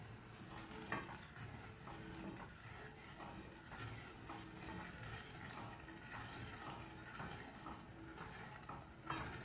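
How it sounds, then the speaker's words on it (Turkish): A spoon stirs sugar syrup with a lemon slice in a pot on the stove, making quiet, steady scraping and light clinks with a soft background hiss, and no one speaks. "ocağımızı yakıyoruz tatlımız olana kadar, şerbetimiz olana kadar karıştırıyoruz"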